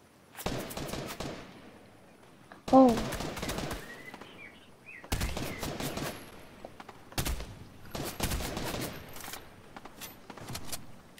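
Bursts of rapid automatic gunfire in a video game come in several clusters, loud and near, separated by short pauses, with no one speaking.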